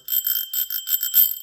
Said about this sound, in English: I got this is a Tokyo bell, kind of cool bell.